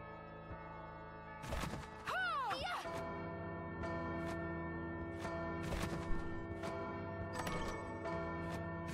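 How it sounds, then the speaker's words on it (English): Cathedral bells tolling in the video game Bloodstained: Ritual of the Night, several resonant strikes ringing out over steady game music, with a voice talking in between. "Where the bells ring, the bells toll."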